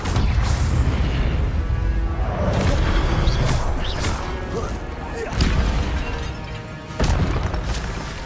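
Incendio fire spell going off in a magic school game: a dense, continuous roar of crackling, whooshing bursts with several sharper crash-like hits, loud and close throughout.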